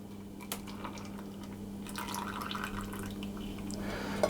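Hot sugar syrup at 100 degrees Celsius is poured slowly into a Portuguese custard tart mixture, giving soft trickling and dripping liquid sounds over a low steady hum, close by and without speech.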